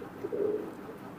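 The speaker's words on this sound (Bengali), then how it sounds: "রানিং পেয়ার কবুতর, 2টাই রানিং, 2টাই নর" A pigeon from a breeding pair gives a single soft, low coo, close and clear against a faint background hum.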